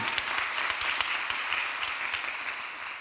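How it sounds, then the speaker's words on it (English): An audience at a university graduation ceremony claps loudly and continuously, a dense wash of many hands filling the room for a few seconds. "If we can give a round of applause for them"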